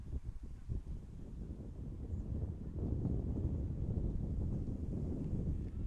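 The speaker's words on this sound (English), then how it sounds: "Huge gusts of wind here at East Boston Memorial." Strong gusts of wind buffet the microphone at a baseball field, a low, rumbling roar that rises and swells, growing heavier in the second half, with no voices.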